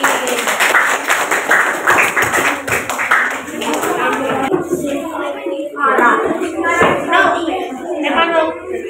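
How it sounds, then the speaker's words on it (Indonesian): Classroom applause for a student group in a fifth-grade maths lesson, a burst of many small hands clapping for about four seconds, then children's voices chattering and talking over the room. "Ya, beri tepuk tangan kelompoknya Api."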